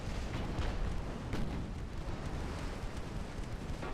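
Naval guns boom in Ultimate Admiral Dreadnoughts, a few 3-inch salvos going off in a dense, continuous rumble of battle noise with scattered sharper reports, steady and fairly loud throughout with no talk.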